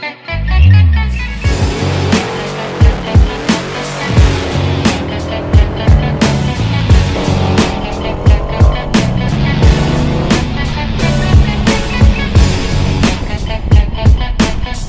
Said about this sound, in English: Car's got lots of torque, it's driving nice and straight, transmission shifting well